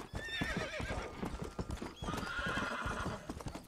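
A horse gallops in the video game Red Dead Redemption, with rapid rhythmic hoofbeats throughout and a whinny rising over them, close and steady.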